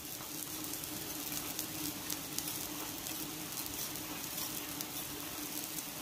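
Liquid sizzles and bubbles steadily in a hot pan of kwetiau sauce after water is added, with light scraping of a stirring utensil over a continuous crackling hiss.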